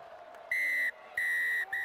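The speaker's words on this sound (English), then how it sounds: "until Peter Fitzgibbon blew the full-time whistle." A referee at a Zebre versus Edinburgh rugby union match blows the full-time whistle in three sharp, loud blasts, the second long, over a faint stadium crowd.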